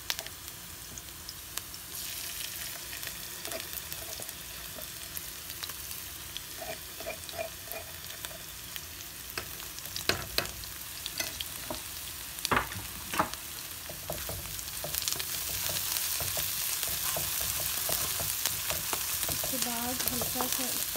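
Onions frying in oil with ginger garlic paste for a mixed vegetable dish, a constant close sizzle with intermittent spoon scrapes and stirring clatter against the pan, the sizzle growing louder toward the end.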